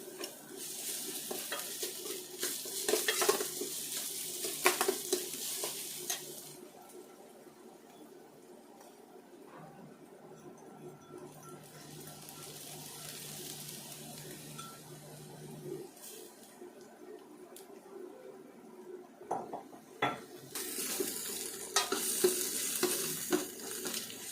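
Ginger and garlic sautéing with onion in a pan while cooking pasta, a soft low sizzle punctuated by bursts of utensil scraping and stirring, fairly faint and close, with a bit of background voice.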